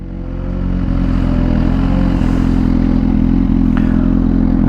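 A Suzuki Gixxer motorcycle engine runs loud and steady at high revs throughout, a dense continuous drone with some rattling clatter and wind noise mixed in.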